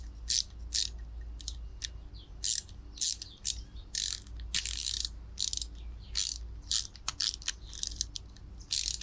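Screws being driven into a homemade assist hook spacer and puller tool, heard as a series of short ratcheting, whirring mechanical bursts in irregular rhythm over a low steady hum, close and without talk.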